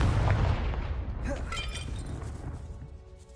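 A Confringo spell explodes in the video game Hogwarts Legacy with a loud, close shattering blast that fades into a rumbling, crackling tail over about three seconds.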